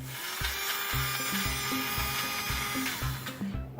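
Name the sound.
upgraded Thomas and Friends toy engine Diesel motor running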